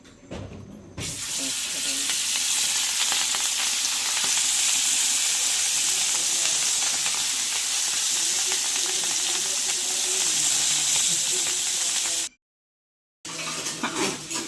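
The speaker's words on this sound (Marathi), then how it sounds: "आणि आता आपण गॅस पेटवू आणि आता आपण फ्राय करून घेऊया।" Bangda mackerel coated in masala and turmeric fries in a pan with a loud, steady sizzle that runs almost the whole way, breaks off briefly near the end, then resumes.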